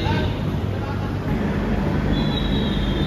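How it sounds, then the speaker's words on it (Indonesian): An extra passenger train hauled by a CC 203 locomotive with a slanted nose rolls into track 3 at Yogyakarta station, a loud, steady rumble of wheels and engine with a thin high whine running throughout. "Kereta api tambahan segera masuk jalur 3 stasiun Jogja teman-teman."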